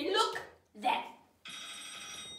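A telephone bell rings in a radio play of Noël Coward's Fallen Angels, a steady, bright, continuous ring that starts after two short bursts of speech and then sounds alone at close range.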